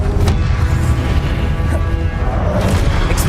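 Spell impacts from Confringo and Incendio in the Hogwarts Legacy video game burst loud and dense, with repeated booming crashes over a constant rumbling low end and sharp flares near the start and end.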